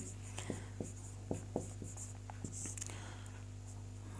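Quick, sharp taps and short scratches of writing on a classroom board, several strokes in a loose rhythm over a steady background hum, near and faint, with whispery voice traces.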